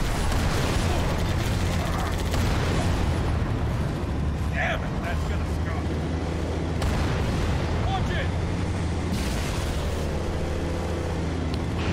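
Scorpion tank in Halo 3 firing its cannon in gameplay, heavy booming blasts over a constant rumbling engine and battle din, with someone talking over the action.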